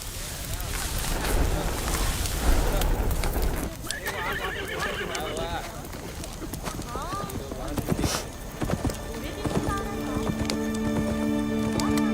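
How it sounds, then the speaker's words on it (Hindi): Horse hooves clip-clop alongside a whinny in a busy outdoor scene, with people talking and ambient noise layered over the steady hoofbeats. "माँ, वो देखो घोड़ा।"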